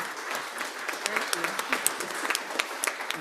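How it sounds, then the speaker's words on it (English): An annual meeting audience applauds a woman named Virginia with steady, close clapping and sharp individual claps standing out, lasting a few seconds. "Please give her a round of applause."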